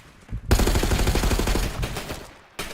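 Rapid SMG fire in a mobile video game, one close, loud burst of tightly packed shots lasting about two seconds, then a short follow-up shot.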